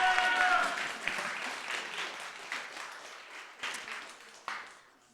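Applause from an audience at an Overwatch 2 LAN tournament award ceremony, loud and dense at first, then thinning into scattered claps with a few sharp individual claps near the end.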